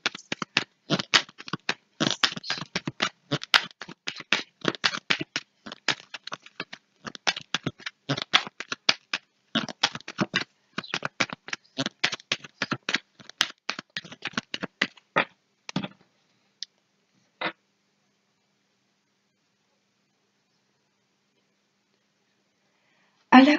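A deck of cards is shuffled and cut by hand, giving dense rapid riffling clicks and flutters for about fifteen seconds, then a few isolated taps and a long quiet stretch.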